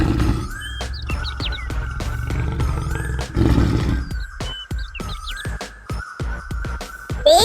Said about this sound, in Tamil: காட்டில் சிங்கம் ஒன்று கம்பீரமாய் வாழ்ந்து கொண்டிருந்தது.